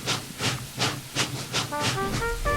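Rhythmic bursts of steam hiss from a steam locomotive labouring along the line, chuffing in a steady beat of about six puffs, with a whistle-like tonal sound rising toward the end over a low rumble.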